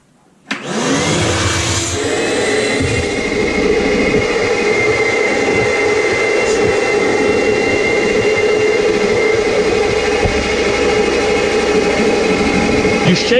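A handheld vacuum cleaner roars steadily as it sucks dust, dirt and debris out of a disposable robot vacuum bag, starting abruptly and holding a loud, continuous whine throughout.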